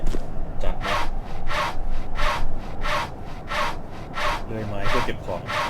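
Rhythmic strokes of a saw cutting wood in a Thai survival video game set in a 40-storey building, about nine steady back-and-forth rasps in quick succession, close and fairly loud.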